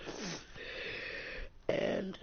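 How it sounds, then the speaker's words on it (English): A wet, breathy nose blow into a tissue, a couple of snorting bursts close to the mic, with a louder blast near the end. "I'm blowing my nose."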